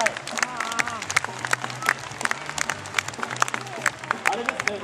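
A crowd applauds after a free live outdoor performance in front of the Big Step building in Osaka. Scattered, uneven clapping with some cheering runs under close talk, with a low hum throughout.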